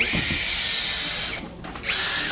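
A power drill whines at high speed close by, briefly easing off and dropping in pitch before spinning back up.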